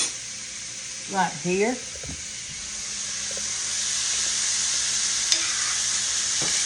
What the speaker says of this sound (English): now I'm going to give it a quick stir